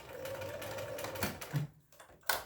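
A sewing machine stitching a seam on a small cup coaster, a quiet, close, rapid mechanical whir that runs steadily, then stops briefly and resumes with a short burst.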